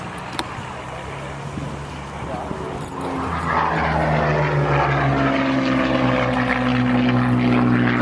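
A left-hand-drive Porsche 928 S4 fires up partway through, its engine note swelling and then settling into a steady, close idle, with people talking nearby.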